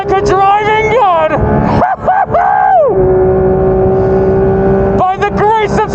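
Porsche 992 GT3 RS race car driven flat out around Spa, a loud, close, high-pitched engine howling through rising revs with quick gear shifts and brief lifts, holding a steady scream before climbing again.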